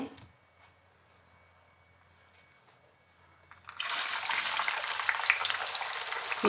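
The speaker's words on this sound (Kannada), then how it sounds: "ನೋಡಿ ಇವಾಗ ಇದಕ್ಕಿನ ಬೇಳೆ ಕೂಡ ಫ್ರೈ ಆಗ್ತಾಯಿದೆ" Avarebele, field bean dal, goes into hot oil for a crunchy mixture: a few quiet seconds of faint kitchen hum, then a sudden loud, bubbling crackle of frying that keeps going steadily to the end.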